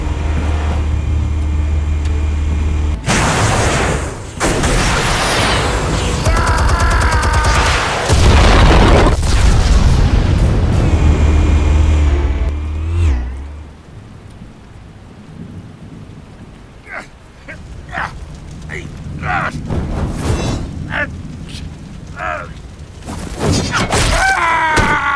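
Heavy booming blasts with long rumbling roars from the video game Batman: The Telltale Series, loud for the first half and then fading into scattered thuds and bursts.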